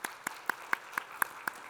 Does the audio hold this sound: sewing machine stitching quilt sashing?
no